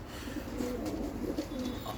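Soft, low cooing from a pair of Mosul pigeons, a male and a female, repeats steadily in a few rolling phrases over a faint background hum, fairly close.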